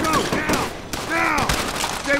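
Bursts of gunfire in Call of Duty: World at War, sharp repeated shots mixed with players talking excitedly over the combat.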